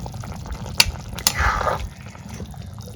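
Sweet gourd simmers in a pot of boiling water, a soft, steady bubbling with two sharp clicks near the start, close and fairly quiet.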